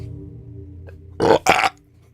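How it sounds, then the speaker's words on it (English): A burp passed through a microphone compressor comes in two loud, close bursts about a second in, with a low hum of room noise before and after. "My burps don't sound as disgusting."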